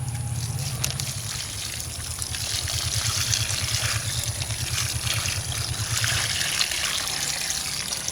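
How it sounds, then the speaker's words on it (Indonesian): Turmeric plants in a home garden being watered, heard as a steady trickle and splash of water over soil and leaves, with a low rhythmic pulsing underneath, moderately close. "Ini tinggal kita siram."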